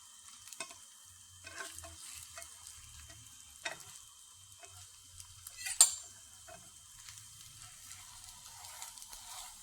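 A folded dish filled with carrot and broccoli frying quietly in a pan, with a faint steady sizzle, soft stirring scrapes and a few light clinks of a utensil against the pan.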